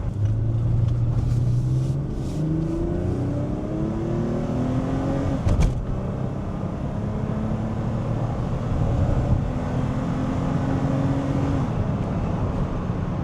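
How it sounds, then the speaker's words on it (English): A BMW E30 with an Alpina-built M20 engine drones and rumbles from inside the cabin, its exhaust rising and falling in pitch as it revs through the gears, steady and loud. "Undeniably, the M20s have a great sounding exhaust note"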